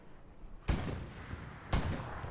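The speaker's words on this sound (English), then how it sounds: "beautiful hip fire headshot right there from Seth." Gunfire in the World War II shooter Hell Let Loose during a competitive league semifinal match: two sharp, loud shots about a second apart, each with a short rumbling tail over steady battlefield ambience.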